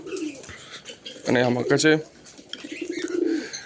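Fancy breeding-pair pigeons, about two and a half years old, in a pigeon house, cooing in a short loud burst midway with softer coos around it, under someone talking.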